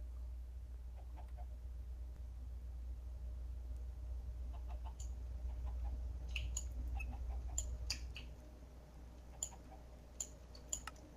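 Chickens clucking in the video game Minecraft: scattered short clucks and clicks over a steady low hum, sparse at first and then more frequent toward the end, moderately faint.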